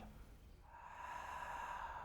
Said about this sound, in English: if you go and say the ha sound, and then inhale the same